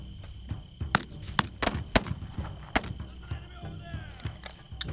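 Gunfire in the video game This Land is My Land: a scattered series of sharp, loud shots cracking at irregular intervals over a low, busy game background.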